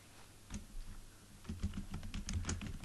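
Quick bursts of keystrokes on a computer keyboard, typing code into a WordPress theme file, with irregular clusters of clicks that grow denser toward the end, close and fairly quiet.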